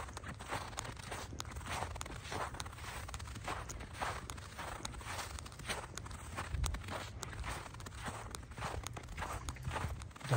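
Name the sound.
footsteps crunching in snow at night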